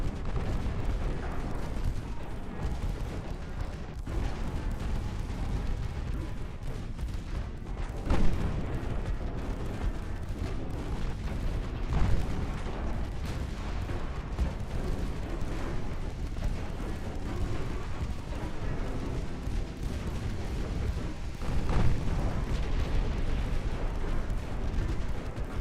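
Continuous naval battle din in the warship game Ultimate Admiral Dreadnoughts, with heavy battleship guns booming several times over a dense, rumbling wash of distant gunfire and explosions.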